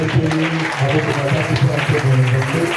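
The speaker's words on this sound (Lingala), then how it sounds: "On va acclamer pour la voix du Seigneur." A church congregation applauds during a worship service, with dense, close clapping that continues throughout while voices rise over it.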